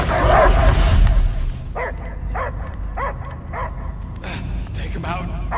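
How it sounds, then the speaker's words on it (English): Dog barking in the Guardians of the Galaxy video game, a series of about seven short, evenly spaced barks and yips at mid distance, after a burst of louder noise at the start. "I hear only barking."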